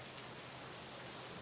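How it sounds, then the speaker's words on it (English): Steady rain falls over a lush garden on a misty day, a dense, even hiss of drops with no voices, holding constant throughout. "Watching the rain nourish the plants"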